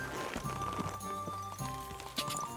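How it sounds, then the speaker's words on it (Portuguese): Horse hooves clip-clop in the medieval role-playing game Kingdom Come Deliverance 2, a steady trotting rhythm of close, moderately loud steps running under game music throughout. "E aí, o tal cavalo."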